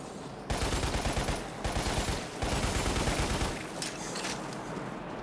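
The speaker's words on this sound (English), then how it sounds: "It just feels great shooting these Akrid." Dense, rapid gunfire in the video game Lost Planet as the player shoots Akrid creatures: a loud continuous automatic stream broken by brief gaps, then tailing off into softer rumbling.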